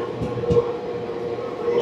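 The 12711 Pinakini Superfast Express runs through toward Sullurpeta station, a steady close rumble of the moving train with a few soft knocks and a faint whine.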